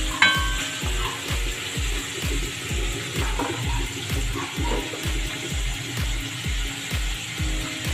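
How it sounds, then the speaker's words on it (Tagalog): Chicken simmers in a pan for barbecue sauce, and a couple of tablespoons of water go in. A steady sizzle and bubbling runs throughout with a regular rhythmic pulsing, fairly close, and no talking. "Lagyan po natin ng konting tubig, mga 2 tablespoons para lang po pampakulo."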